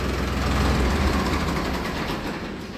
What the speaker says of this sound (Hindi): ये देखो जी फोर्ड की कलाकारी होती है, क्या झटके मार के चलता है ट्रैक्टर एकदम से।